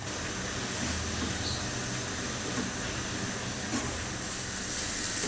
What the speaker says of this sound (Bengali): প্রায় 8-10 মিনিট গাজরগুলাকে ভেজে দেখেন কতটুকু হয়ে গেছে